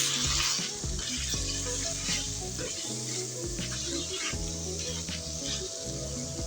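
Chicken stir-fried in a pan with black pepper and salt gives a steady, close sizzle throughout, with background music playing over it.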